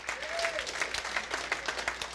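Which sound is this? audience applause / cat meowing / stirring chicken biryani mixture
audience applause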